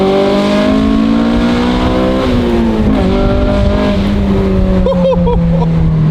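Honda S2000 engine revving hard past its VTEC crossover around 6,500 RPM, a loud, close wail that holds high, dips, then climbs again with a sharper, raspier edge.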